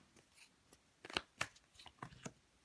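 Tarot cards being shuffled give quick papery flicks and riffling bursts, several sharp clusters in a row, close and fairly quiet.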